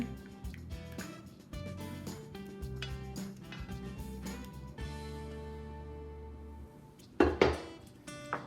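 A utensil stirs mushroom sauce into green beans in a casserole dish, with scattered light clinks and scrapes against the dish, two sharper knocks near the end, and soft background music.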